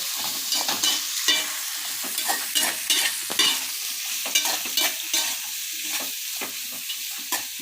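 Onions sautéing in a pan, with a steady sizzle broken by repeated scraping stirs of a spatula at an irregular rhythm, close and fairly loud.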